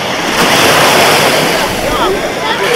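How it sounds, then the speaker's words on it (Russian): Small waves wash in steadily at a crowded Black Sea beach at Blagoveshchenskaya, a loud, continuous surf roar mixed with wind buffeting the microphone. "небольшая волна."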